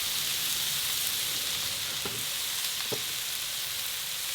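Salmon and vegetables sizzle on a grill, a steady, close hiss of frying that carries on evenly throughout, with two brief crackling pops partway through and no voices.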